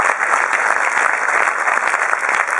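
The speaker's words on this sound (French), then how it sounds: "ce sont les applaudissements de la salle" Dense, steady applause from an audience filling a hall at an adventure film festival screening in Dijon, a continuous wash of many hands clapping, loud and close, with no talk over it.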